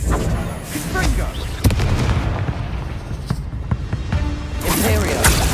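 Confringo fire-blast spells burst repeatedly in Hogwarts Legacy, with sharp explosive booms and crackling blasts amid combat noise and occasional voices.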